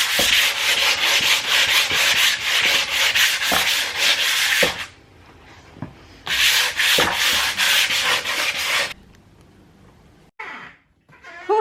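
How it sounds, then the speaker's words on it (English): A piece of wood is sanded by hand in long rasping strokes, two loud bursts of rhythmic rubbing separated by quieter pauses, close up with no talking. "I am actually going to sand now and make this piece of wood and this one underneath smooth and perfect"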